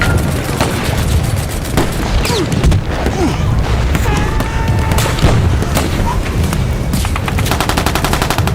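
Explosions and gunfire from a music video play at a steady loud level, with dense bursts and booms layered over the song's music throughout.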